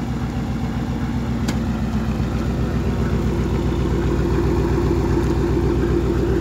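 A GMC Suburban V8 idles nearby with a steady, deep, even rumble from its exhaust, holding constant at moderate loudness with no talking.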